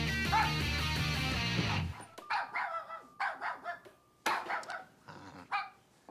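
A dog barks in a run of short, loud, close yips and woofs, several in quick succession with brief gaps, after a burst of upbeat music cuts off.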